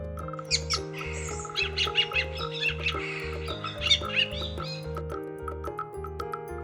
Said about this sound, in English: Thrush.